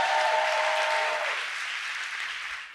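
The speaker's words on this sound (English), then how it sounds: "Let's give the Lord a round of applause." Church congregation applauding during a Sunday service, a dense, sustained wash of clapping from many hands that slowly fades toward the end, with faint tones from instruments underneath early on.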